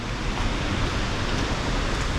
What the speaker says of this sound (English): So there's Massive Waterfall right there.